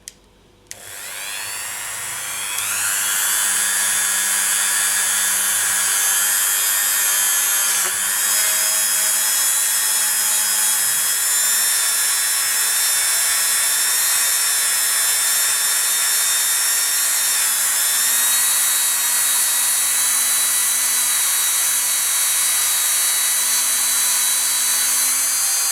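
A rotary buffing wheel spins up with a rising whine and then holds a steady, loud, high motor drone as polymer clay beads are gently buffed, with no talk over it.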